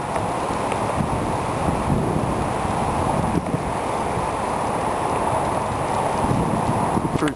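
A strong wind storm in Edmonton roars continuously and blows leaves along. The gusty rush of air against the microphone stays loud and steady throughout.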